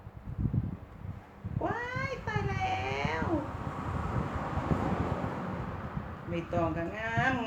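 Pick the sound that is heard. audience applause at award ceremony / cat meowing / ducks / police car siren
cat meowing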